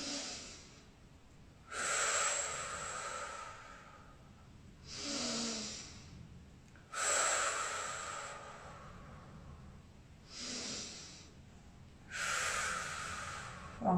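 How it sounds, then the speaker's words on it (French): Slow breathing held through a hatha yoga pose: long, audible inhales and exhales alternating in a steady rhythm, airy and close, about five breath phases with quiet gaps between. "On reste 5 respirations."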